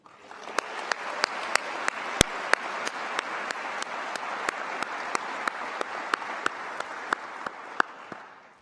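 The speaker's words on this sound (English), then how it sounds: "Let's give them one more round of applause." Sustained applause from a university convocation audience honoring teaching award recipients, a steady wash of many hands with a few sharper nearby claps standing out, fading at the end.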